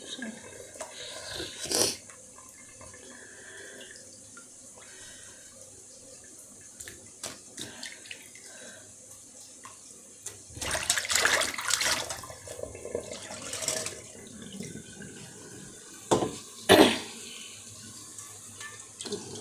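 A kitchen tap runs steadily while small puti fish are cleaned in a sink, with a continuous hiss of water broken by louder splashes and clatters of handling, and no talking.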